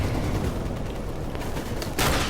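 Rapid gunfire in the Call of Duty: Modern Warfare video game, aimed at a sniper, comes as a dense, continuous barrage with a sharper, brighter burst near the end.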